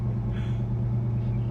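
A 1969 Dodge Super Bee under way, a steady low engine rumble and road drone filling the cabin throughout, loud and continuous with no talk.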